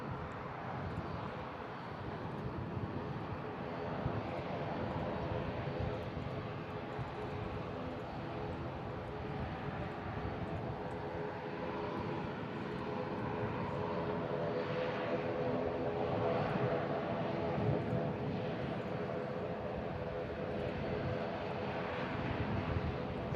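Airbus A350 airliner at an airport, a steady, broad engine roar with a low rumble and faint tonal whine, holding level for over twenty seconds without fading.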